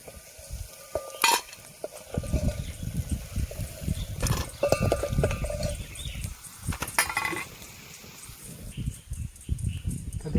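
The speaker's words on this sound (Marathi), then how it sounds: "मस्तपैकी फ्राय झाले." Chicken pieces frying in a pan outdoors near a riverside jungle, with a quiet sizzle broken by scraping and clattering stirring noises and a few bright metallic knocks.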